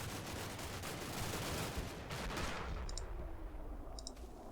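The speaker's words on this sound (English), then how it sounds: "they're getting machine gunned by the Armoured Knight" Machine gun fire in the war game Combat Mission, a dense continuous rattle of automatic bursts with distant booms, steady and loud throughout with a few sharp clicks near the end.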